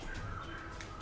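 Birds in a night forest ambience chirp and coo softly in short, quiet calls over a low, steady background hum.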